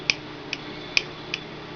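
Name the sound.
ratcheting click of a Transformers G1 Nautilator toy joint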